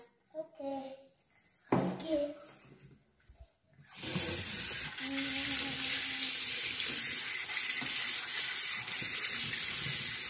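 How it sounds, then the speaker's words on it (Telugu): A tap gushes steadily into a sink while hands are washed, running loud and continuous after a few seconds of children talking and brief splashes. "Wash your hands."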